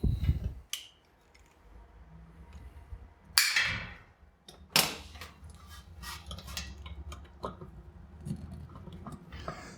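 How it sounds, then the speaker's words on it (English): Plastic cooler pipe being cut to length, a few sharp snipping clicks and brief scraping handling noises at close range over a quiet room. "Cut it to the desired length."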